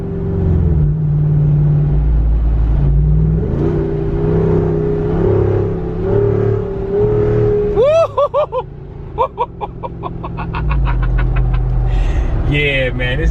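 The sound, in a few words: 2021 Jeep Wrangler Rubicon 392 V8 HEMI engine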